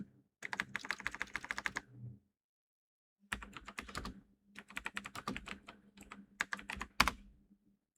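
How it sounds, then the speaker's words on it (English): A prompt typed on a computer keyboard in three bursts of rapid, close clicking separated by short silences, the keystrokes crisp and uneven in pace. "So now we are going to type a prompt, summarize this article"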